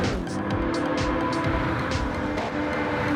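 Classic Mercedes race car in Gran Turismo 7 at Le Mans, its big throaty engine droning steadily and loudly throughout, with other engine noise blended underneath.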